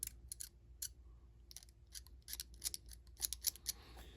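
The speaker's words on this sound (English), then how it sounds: "just get your knife and scrape away those seams" A knife blade scrapes mould seams off a plastic model figure, giving short, crisp scratching strokes in quick irregular clusters, close up and quiet, with no talking.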